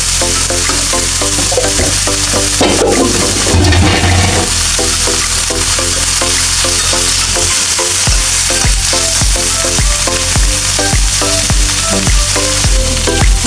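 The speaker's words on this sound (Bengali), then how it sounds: "ভালো করে তেল দিয়ে কপিটা ভালো করে ভেজে নেবেন।" Cauliflower fries in oil in a pan, a loud continuous sizzle with stirring scrapes, while rhythmic music plays over it throughout.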